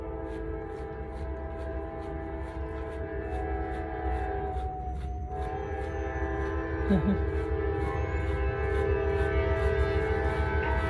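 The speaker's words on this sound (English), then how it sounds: "Train going by" A train rumbles past continuously with a steady rhythmic clatter of wheels and a loud droning tone, close and sustained throughout.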